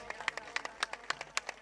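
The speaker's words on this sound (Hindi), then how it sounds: "एक बार फिर जोरदार तालियां।" Scattered hand claps from a small crowd at an inauguration ceremony of a newly upgraded government senior secondary school, a dozen or so soft, irregular claps, faint and somewhat distant.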